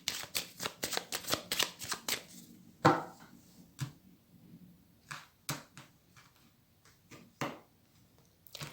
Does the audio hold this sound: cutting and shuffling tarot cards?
yes